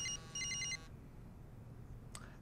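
A phone rings in the NBA 2K19 basketball video game, giving a few short bursts of electronic trilling tones close up before cutting off into quiet, with no one talking.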